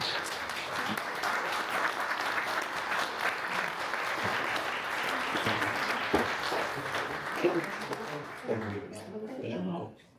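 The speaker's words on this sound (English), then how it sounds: "Another round of applause for Paul Fucking Brown." Wedding guests applaud and cheer after a toast to the newlyweds, a dense, steady wash of clapping from a large room that carries on for about eight seconds, then fades as voices rise through the tail.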